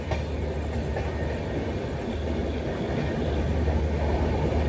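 An LHB coach on the Anakapalle to Secunderabad Special Fare Express 07056, running between Tadepalligudem and Eluru, gives a steady, loud rumbling roar of wheels and carriage noise with no break and no voices.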